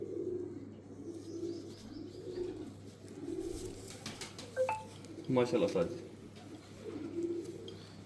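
Soft, low coos of a female flying pigeon repeat at an even pace while someone speaks briefly, with some clattering and a steady hum underneath.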